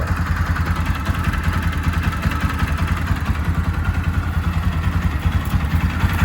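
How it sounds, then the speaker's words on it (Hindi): A Bajaj Pulsar 200 motorcycle engine idling steadily after starting, a continuous even mechanical drone with rapid rhythmic pulsing, close and moderately loud with no talk. "अब देखो मैं गाड़ी स्टार्ट करता हूँ, अब आपको RPM में फ़र्क दिखेगा"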